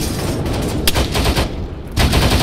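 Dense, continuous gunfire from ARMA 3, a military shooter, with rapid automatic bursts layered into a loud, sustained battle din and sharper cracks punching through near the start and again toward the end.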